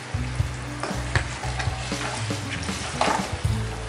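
Dried chilli powder and turmeric stirred and fried in a pan for a Bengali kochu shak dish, a loud close sizzle with rhythmic scraping stirs and clinks throughout.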